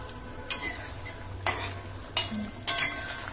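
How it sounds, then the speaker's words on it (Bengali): A spoon scrapes and stirs Katla fish kalia curry in a pan, four distinct stirring strokes over a soft background sizzle, close and clear with no talking. "একটু নেড়ে ছেড়ে দেওয়া হচ্ছে"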